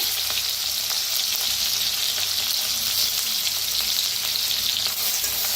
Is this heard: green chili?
yes